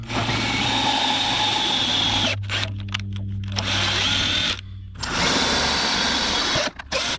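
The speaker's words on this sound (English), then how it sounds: "Now let me just cut some threads in these before we put the flap on." A power tool whirs steadily while cutting threads into drilled holes in an RV underbody, stopping and restarting a few times with short quieter gaps, close up and loud.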